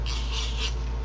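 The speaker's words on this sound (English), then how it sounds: "I am simply going to use my tape runner and run tape" A tape runner rolls adhesive tape onto a piece of paper craft, giving a brief, close, dry rasping rub that swells twice and then ends with a short click.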